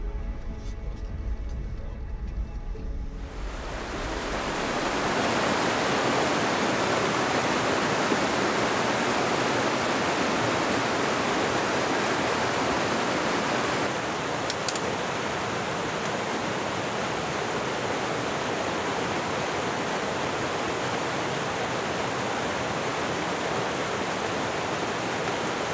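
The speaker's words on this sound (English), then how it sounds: "Right next to a creek here, it's got some falls in it, so it's gonna be kind of noisy." A mountain creek with small waterfalls rushes in the San Juan Mountains of Colorado, a loud, steady broadband roar that fills in after a few quieter seconds and then holds constant with no voices.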